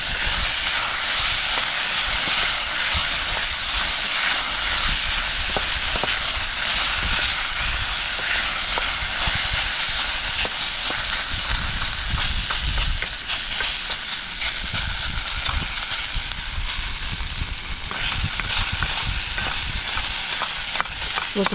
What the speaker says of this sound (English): Looking to get the potatoes browned and moderately cooked.